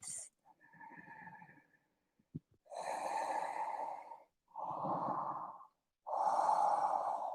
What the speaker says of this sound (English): Last deep breath in and out.